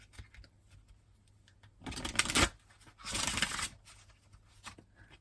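Oracle cards from the Wisdom of the House of Night deck are shuffled in two brisk bursts of papery riffling, close and fairly loud, separated by quiet pauses with faint handling noise.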